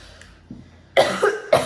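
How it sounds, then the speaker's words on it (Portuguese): A short, wet cough with water in the mouth bursts out twice near the microphone after a quiet breath, sounding muffled and gurgly. "Tentei tossir com água na boca."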